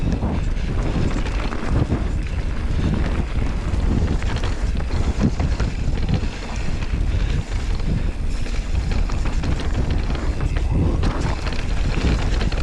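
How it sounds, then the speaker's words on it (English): Strong wind roars continuously into the microphone during a fast downhill mountain bike race run, loud and steady, with no talk. "Woo, she's windy."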